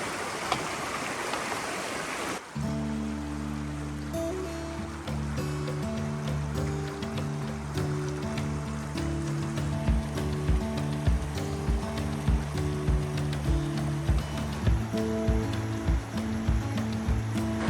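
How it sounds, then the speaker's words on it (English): Water rushes steadily through a stream swollen after heavy storm or flood on the Appalachian Trail in Pennsylvania, a loud continuous close roar, with a low droning hum layered underneath and no talking. "There's some serious water moving through here."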